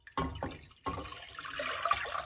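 Water poured from a measuring cup into a pot for cooking rice, two quick splashes followed by a longer steady pour, close and alone.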